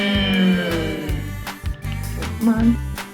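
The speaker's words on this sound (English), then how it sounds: "Uncle sound effect." Speech through a Tylex portable karaoke machine's uncle voice effect, a lowered, buzzy, processed tone heard in a few short loud phrases close to the mic.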